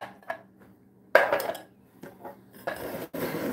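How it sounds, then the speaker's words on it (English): Crushed canned pineapple, 8-ounce cans, pressed in a strainer over a bowl for millionaire pie, giving a few close clattering knocks and scrapes of metal and utensil against bowl, with quiet gaps between bursts. "I'm going to put them over a bowl and press them to strain them"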